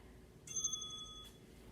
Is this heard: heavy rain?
no